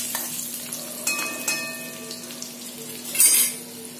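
Dry fish gravy ingredients, including turmeric, are stirred in a frying pan, with a close sizzle and scraping spoon strokes, light clinks of metal against the pan, and a louder scrape-and-sizzle burst toward the end.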